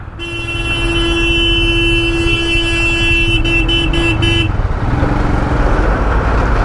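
Stuck in road traffic on a motorcycle ride home from Ladakh, a long continuous car horn blares nearby for several seconds over a dense traffic rumble, then cuts off, leaving engine and road noise.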